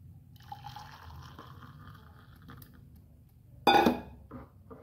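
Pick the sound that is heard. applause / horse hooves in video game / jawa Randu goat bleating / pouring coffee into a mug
pouring coffee into a mug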